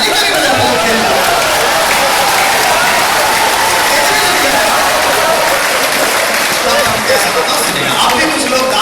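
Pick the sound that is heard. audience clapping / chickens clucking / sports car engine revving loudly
audience clapping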